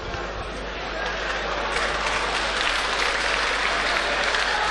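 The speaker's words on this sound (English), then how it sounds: "Why are you clapping now?" Steady applause from a church audience during a sermon on relationships, dense and continuous throughout, growing slightly louder after the first couple of seconds, with no talk over it.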